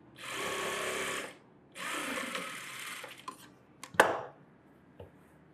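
A sewing machine stitches a net model blouse in two short bursts of fast, close whirring, followed by a few sharp handling clicks and knocks.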